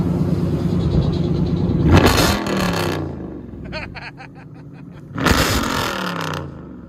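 A 2012 Chrysler 300 SRT8 with a 6.4L HEMI and true dual straight-pipe exhaust idles loudly, then is gunned in two sharp, roaring revs separated by a lumpy, burbling idle, heard up close.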